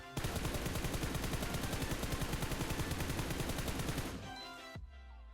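Sustained rapid automatic gunfire from a weapon in PUBG Mobile, a dense unbroken burst for about four seconds, then a brief ringing tail and sudden quiet.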